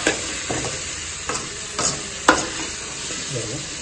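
Chili powder frying in hot oil for an eggplant kara kuzhambu, a steady close sizzle with a few soft stirring clicks and scrapes at an even rhythm.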